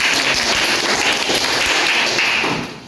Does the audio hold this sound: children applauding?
yes